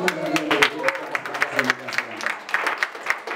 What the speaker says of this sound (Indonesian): Tepuk tangan lu buat Tuhan